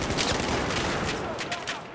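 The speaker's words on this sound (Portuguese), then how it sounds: "Eu não sei de onde eu tô levando tiro" Battlefield 1 gunfire crackles in a steady, dense fusillade of overlapping shots. Sharp bursts stand out near the start and again toward the end over continuous battle noise.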